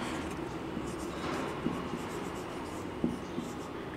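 Chalk or marker writing on a board during a chemistry lecture, soft scratchy strokes with a few sharp taps, close and steady over a low room hum.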